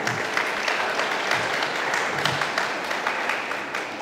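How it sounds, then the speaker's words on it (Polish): A hall of high school students at a Polish National Education Day ceremony breaks into sustained applause, a dense even wash of many hands clapping that holds steady throughout. "Brawa dla was."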